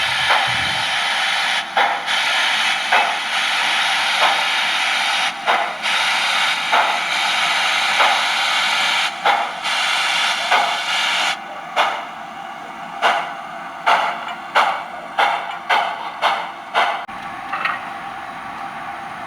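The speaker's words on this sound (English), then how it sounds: "here we go with blow out the cylinders. Give a warning that we're about to move the locomotive and start forward." A DCC sound decoder in a UK model steam locomotive plays a long, loud hiss of cylinder blowdown, then a whistle warning and a run of sharp chuffs as the engine starts forward, no voices over it.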